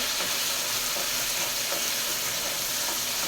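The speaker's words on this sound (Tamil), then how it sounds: "இப்போ இரநூறு சின்ன வெங்காயம் இருக்குது நம்ம அதையும் நல்லா கொட்டிக்கணும் எல்லாமே நல்லா வதங்கட்டும்" Small shallots sauté in oil in a pan for dried fish thokku, a steady close broadband frying sizzle with faint stirring scrapes, no voices.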